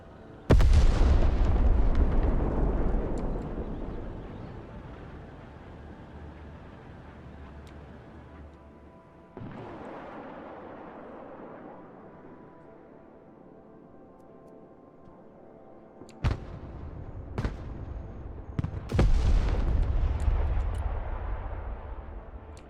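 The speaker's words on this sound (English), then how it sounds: "Artillery at your command, sir. Providing direct fire." Artillery guns fire direct shots in the Broken Arrow war game, starting with a heavy booming blast that rolls away, then more loud explosions and sharp cracks arriving in bursts, close and powerful.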